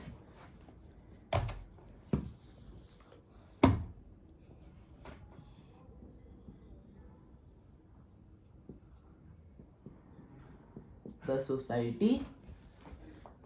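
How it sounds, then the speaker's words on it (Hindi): A pen scratches across paper while notes are written out, soft close strokes broken by a few louder taps and knocks of the pen or page, with a busier burst of scribbling near the end. "लिख देता हूं नीचे आपके लिए"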